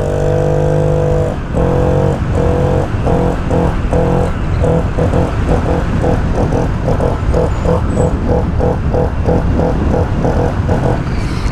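Loud, close revving of a Honda PCX scooter running with no air filter and a washer fitted in the exhaust, the engine note rising and falling in rapid rhythmic pulses throughout.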